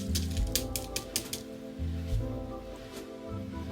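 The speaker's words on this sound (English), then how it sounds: "take our eggs and we are going to peel them" Shells being peeled off boiled eggs: a quick run of sharp little crackling clicks up close, then sparser taps, all over a steady background music bed.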